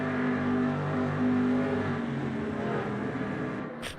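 In an Automobilista 2 racing game replay, a race car engine holds a loud, sustained droning rev with steady harmonic tones that drop slightly in pitch partway through, ending with a brief high-pitched blip.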